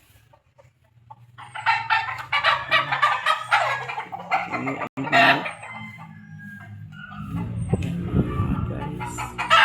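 Chickens in a coop cluck and squawk busily nearby, with turkey-like gobbling and a rooster crowing amid the flock, while a person says a few words.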